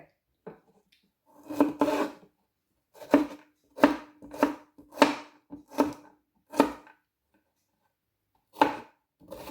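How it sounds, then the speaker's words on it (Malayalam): Ivy gourd cut with a sharp knife on a board, clusters of crisp chopping strokes in uneven bursts separated by short pauses, close and clear with no talking. "നമുക്ക് ഇതുകൂടെയൊക്കെ അരിഞ്ഞെടുക്കാം"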